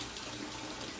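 Water runs steadily from a sink tap while filling for an aquarium water change, a loud, continuous hiss with no talking.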